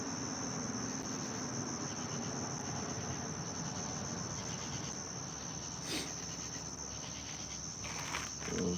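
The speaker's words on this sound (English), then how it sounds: "you hear a lot of crickets" Steady, dense chirping of many crickets fills the scene continuously, with a constant high-pitched trill and occasional faint rustles.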